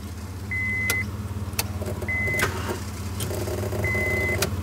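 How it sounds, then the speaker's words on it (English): An abandoned Honda Civic's engine cranks without catching: a steady low mechanical churn runs throughout, with three short electronic beeps spaced across it. "So probably not a great idea that I try to crank this"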